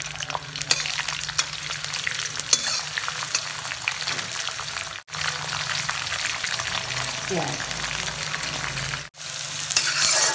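Onions, peanuts, green chillies and curry leaves sautéing in oil in a pan for semolina upma, a loud steady sizzle and crackle with stirring scrapes, close and continuous, with two brief dropouts.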